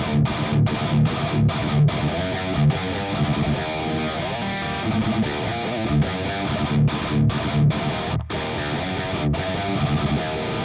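Electric guitar played through an overdrive plugin set as a clean boost with the drive turned down, strummed chords and riffs ringing steadily with short choppy stops, a lightly driven tone throughout.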